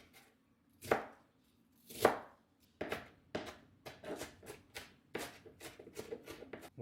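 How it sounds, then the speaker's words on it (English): A knife chops a yellow onion on a board, a few slow, well-spaced cuts giving way to a quicker, steady run of close, crisp thuds. "I'm going to chop it into smaller bits."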